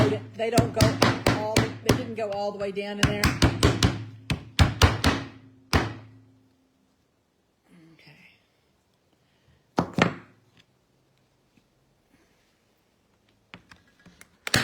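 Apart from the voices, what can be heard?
hammer tapping boards down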